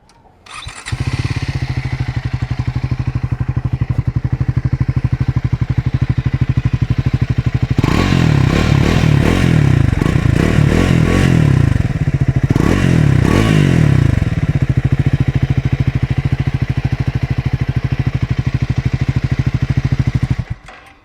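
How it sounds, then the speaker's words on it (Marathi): A Triumph Scrambler 400X motorcycle starts up and settles into a steady, thumping idle from its exhaust, with a louder burst of revving in the middle before dropping back to idle and cutting off; close and loud, no talking. "गाडी चालू करूया आपण आणि तुम्हाला मी जरा एक्झा एक्झॉस्ट पण ऐकवतो"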